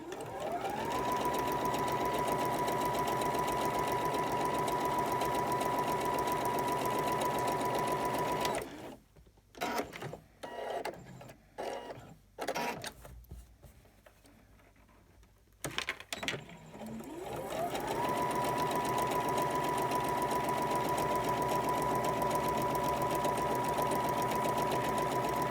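Sewing machine stitching a quilt seam, two long runs of loud, steady motor hum near the listener, separated by a pause filled with clicks and fabric handling.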